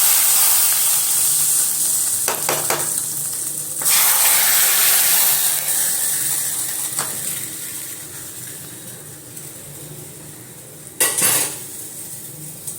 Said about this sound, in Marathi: तुम्ही पाहू शकता फोडणीचा किती छान आपल्याला तडतडचा आवाज आलाय